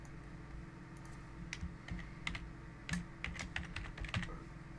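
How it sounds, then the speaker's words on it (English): Someone types an administrator username on a computer keyboard, a run of irregular, fairly quiet key clicks over a steady background hum. "I'll type it in with a capital L."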